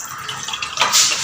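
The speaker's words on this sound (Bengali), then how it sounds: "এবার চালে একটু জল দেবো বসানোর জন্য।" Water pours from a tap or jug onto washed rice in a cooking pot, a steady close splashing that swells louder toward the end of the short burst.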